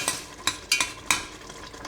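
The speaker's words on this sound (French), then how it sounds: "Ensuite, je mélange le tout." Canned tomatoes are stirred into a hot pan, giving a series of sharp utensil scrapes and knocks over a low sizzle, close and without speech.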